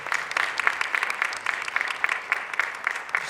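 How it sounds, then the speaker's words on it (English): A conference audience gives emerging scholars a steady round of applause, dense even clapping heard at moderate distance throughout. "Can we give them a round of applause?"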